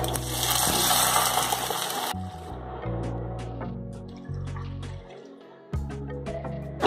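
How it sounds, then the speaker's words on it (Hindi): Two cups of water poured into a hot tadka of oil, mustard seeds, green chillies and curry leaves for dhokla make a loud rushing hiss for about two seconds, then fade as soft music carries on. "2 कप पानी डालें।"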